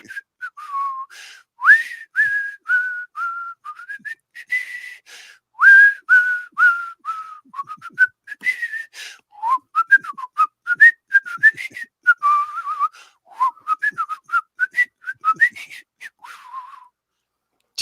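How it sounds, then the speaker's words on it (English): A person whistles a tune alone, a long run of clear, bright phrases with short notes and gliding pitches, steady and close for well over fifteen seconds. "Can anyone in the chat get what I just whistled?"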